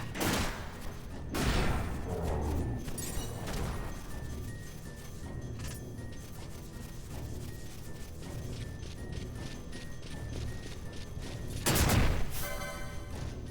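Explosion traps go off in Final Fantasy XII as sharp, loud bursts, with a strong blast near the start and another near the end. Quieter game clatter and thumps fill the stretch between them.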